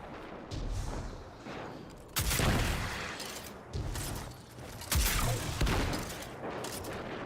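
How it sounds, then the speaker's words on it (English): Launcher fire from a cyclone grenade launcher in Destiny 2, a series of heavy booming blasts at roughly one-and-a-half-second intervals, each followed by a rumbling tail over continuous game noise. "And a cyclone grenade launcher."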